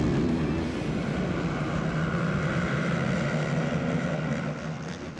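Loud, steady engine roar holds throughout, a dense mechanical drone of ATV engines revving at a motocross start gate at High Point Raceway, with no pauses, close and sustained.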